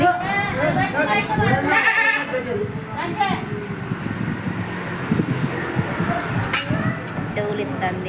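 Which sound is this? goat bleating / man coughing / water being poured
goat bleating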